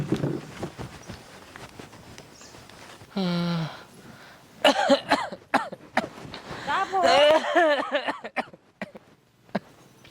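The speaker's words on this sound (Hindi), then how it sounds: "खांसी बहुत होता है और कफ जम गया है सीनों में" Throat clearing and a rough cough or two come amid people talking, with a shuffling sound partway through.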